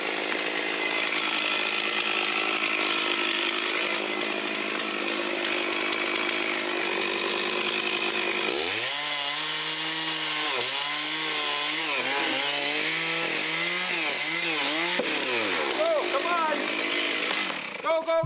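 A chainsaw cutting a tree drones steadily at constant loudness throughout, and a voice talks over the engine noise in the second half.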